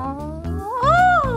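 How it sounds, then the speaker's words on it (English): A cat meows loudly and close up, a drawn-out rising and falling call following shorter vocal sounds, with no talking. "it's got a cat in it"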